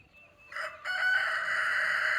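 A big rooster crows on a farm with rescued animals, one loud sustained call close by, with no talking over it.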